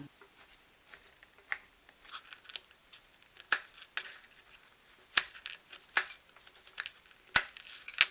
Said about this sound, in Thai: เราก็จะเอาเนื้อมาหั่น